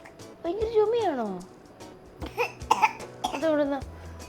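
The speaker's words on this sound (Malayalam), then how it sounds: "ഓ ഭയങ്കര ചുമയാണോ?" A young child coughs several times up close, the rough coughs mixed with voiced, throaty sounds over about four seconds in a home.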